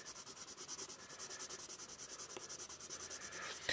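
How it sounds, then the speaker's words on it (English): A Derwent Onyx graphite pencil is pressed hard in rapid back-and-forth shading strokes on Canson sketching paper, a faint, even, rhythmic scratching heard up close. "I'm going to put my weight into it, okay? So I am really going to lay down this graphite here"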